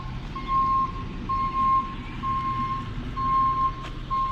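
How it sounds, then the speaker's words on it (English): A tow truck reversing sounds a steady series of evenly spaced beeps over a rumbling idling engine, loud and close. "We got the tow truck right here."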